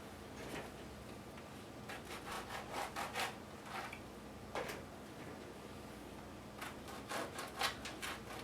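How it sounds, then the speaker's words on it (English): A knife cutting through cream puffs, a series of soft, close rasping strokes in quick clusters with short pauses between them. "I'm going to cut these first before I fill them all"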